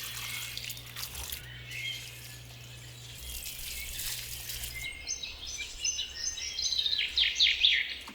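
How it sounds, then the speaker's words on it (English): Water splashes and trickles while newly planted herbs in a garden bed are watered, bursts of spray coming and going, with birds chirping faintly nearby toward the end. "Herbs do like dry soil, but they do need watering after they have been planted."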